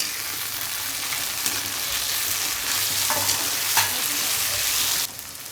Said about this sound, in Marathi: आता टमाटर चांगला फ्राय झालेला आहे